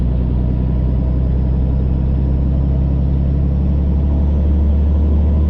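A pickup truck tows a camping trailer along the road with a loud, steady engine drone and deep rumbling road noise, continuous and close with no voices.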